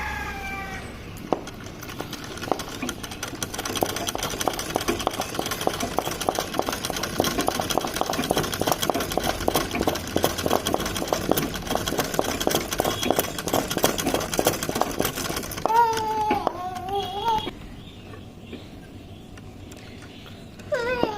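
Domestic sewing machine stitching a scalloped embroidery fill in black thread: a steady, rapid mechanical chatter runs for about fifteen seconds before stopping, with a short whirring adjustment after it and no talking.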